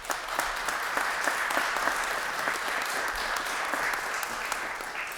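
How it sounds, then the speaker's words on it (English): Steady applause from the assembled crowd at a Pittsburgh Bureau of EMS promotion and swearing-in ceremony, even clapping at moderate volume lasting several seconds with no speech. "Please give yourself a round of applause."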